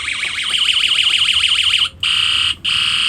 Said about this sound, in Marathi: इकडे बघा हॉर्न आणले, हॉर्न